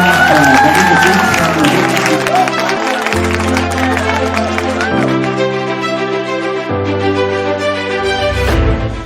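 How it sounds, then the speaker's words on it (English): Audience applause at the grand finale of a culinary challenge cooking competition, steady clapping across the room mixed with loud stage music and some voices talking over it. "please give a round of applause to Ekta, Virendra, and the team"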